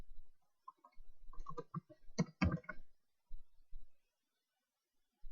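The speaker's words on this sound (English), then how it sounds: "I'm going to type in temper" Keys on a computer keyboard clack in a few quick bursts, close and fairly quiet, then trail off into a couple of isolated taps with silence between.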